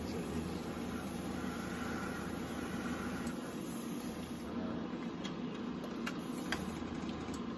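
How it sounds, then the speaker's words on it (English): An airbrush running above 20 PSI sprays a single base color onto a helmet, a steady, quiet, continuous hiss that stays level throughout. "So I can crank up my airbrush past 20"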